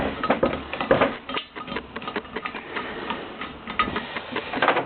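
Parts come off a Land Rover Freelander cylinder head during valve removal, giving dense, irregular metallic clicks and small ratcheting taps close up, with no talk.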